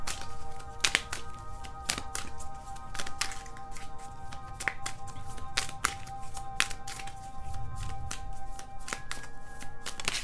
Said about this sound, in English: let me pull out some cards for you